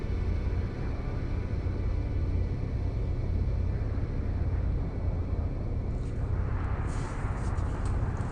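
Storm on a planet in No Man's Sky, a loud continuous low rumble with roaring noise that keeps on without a break, with a slight shift in texture near the end.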